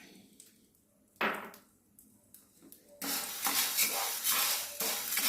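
Washed, drained green gram tossed into a hot pan, starting with scattered clinks and scrapes, then a loud steady sizzle with rhythmic stirring scrapes for the remaining seconds.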